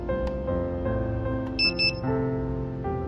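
Securina MD200 handheld metal detector sounding its alarm, a loud continuous electronic tone that shifts pitch, with a brief higher beeping burst in the middle.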